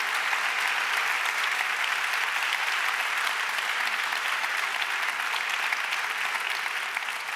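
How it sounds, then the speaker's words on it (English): Steady, dense applause from a lecture audience after talks at a Stanford event, continuous clapping at an even level for several seconds with no voices on top. "let's give a huge round of applause to our speakers"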